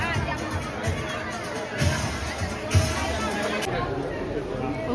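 A crowd gathers at a family birthday celebration where umbrellas are handed out to young girls. Steady close babble of many overlapping voices rises and falls, with a few louder thumps and bursts of talk.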